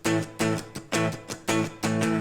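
Guitar strummed in a tight 16th-note rhythm pattern, five or so bright, choppy bursts of chords in a steady syncopated groove, close and clean with no talking.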